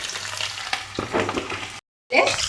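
Chopped onions frying in a pan for a curry, a close, steady sizzle with stirring scrapes, cut off by a brief silence before the sizzling resumes.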